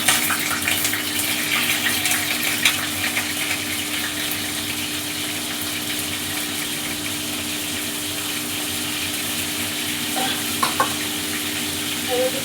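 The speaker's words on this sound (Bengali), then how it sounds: "এবার আমি প্রথমে ফুলকপিটা লাল লাল করে একটু ভেজে নেব।" Cauliflower frying in hot oil: a steady, loud sizzle that runs continuously with a few scraping stirs near the end, no voices.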